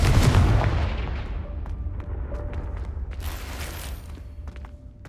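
A Confringo fire-blast spell in Hogwarts Legacy opens with one loud, near explosion, then a rumbling tail fades away under scattered clicks and faint mechanical creaks.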